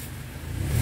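Toyota Innova engine revving under throttle, a steady low mid-range drone that swells and grows slightly louder toward the end of the short burst, with no talking.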